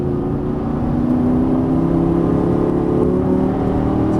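A powerful Lamborghini Gallardo engine revs and accelerates with a steady, rising roar, heard from nearby without any voices.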